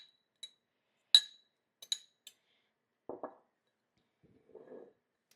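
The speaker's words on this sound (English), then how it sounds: "Let me just stir this one around." A spoon stirs rehydrating freeze-dried Brussels sprouts in a glass container, making a few sharp clinks and taps at close range, then a soft scrape, with quiet gaps in between.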